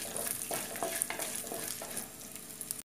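Onions and curry leaves fry in hot oil for a fish curry, making a close, continuous sizzle with soft stirring scrapes and crackles before the sound cuts off abruptly; no one talks.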